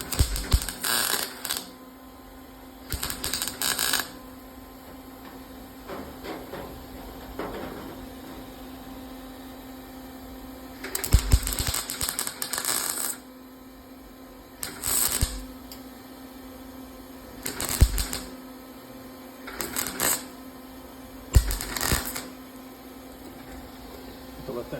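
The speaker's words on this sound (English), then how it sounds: "Got all these other holes to weld up." Holes in car sheet metal are welded shut in repeated bursts of harsh crackling buzz, each a second or two long and separated by pauses, over a steady background hum.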